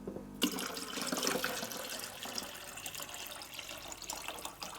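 Water splashes and trickles as it is poured into the reservoir of a HiBrew H10A espresso machine, a close, uneven liquid gurgle that begins abruptly and runs steadily without talk.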